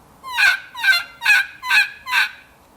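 A modified elk call blown to mimic a hen turkey gives five evenly spaced yelps, each sliding from a high front note to a lower back note, loud and close with nothing else in the background.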